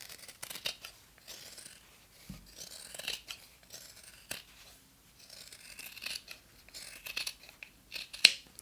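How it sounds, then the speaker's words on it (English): Scissors or pinking shears trim the fabric seam allowance of a sewn reindeer pouch, giving a run of close, crisp snips and rasping cuts in irregular bursts, with a sharper snap near the end. "you can take scissors or your pinking shears and trim the seam allowance by half"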